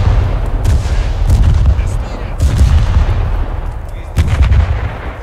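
Soviet warship guns firing in the naval battles of War Thunder: heavy, deep booms roll in one after another, three or four big blasts with sustained low rumble between them, loud and close.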